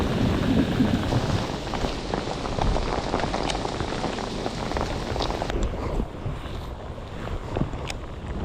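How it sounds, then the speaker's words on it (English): Rain pours steadily onto a lake around a bass fishing boat during Bassmaster Elite practice at Neely Henry, a dense, close hiss of drops on water and the hull, with gusts of wind buffeting the microphone. "It's already starting to rain bad,"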